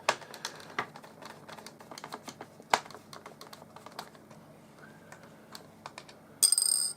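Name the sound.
removing small flange screws from toy submarine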